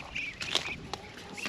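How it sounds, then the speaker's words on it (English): A black ripple hen duck with her ducklings on a small farm: faint high peeping chirps and soft quacks scattered over quiet outdoor background. "Here's my black ripple hen. And some of her ducklings."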